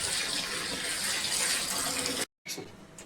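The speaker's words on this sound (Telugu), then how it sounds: "పసుపు వేసుకొని ఇలా 3 సార్లు శుభ్రంగా కడుక్కున్నాం అనుకోండి" Water gushes steadily from a tap as mutton is washed with turmeric, a close, loud rush that cuts off abruptly, then a few shorter splashes follow.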